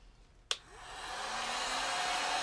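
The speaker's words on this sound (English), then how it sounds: "I'm going to heat set these with this heat gun." A heat gun used to heat-set chalk ink on metal containers clicks on and then blows a steady, close rush of hot air that keeps building in loudness to the end.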